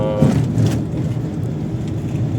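A vehicle towing a trailer rolls along a packed dirt field road at roughly 40–50 km/h, giving a steady, loud low-frequency drive rumble with road noise and rattle throughout.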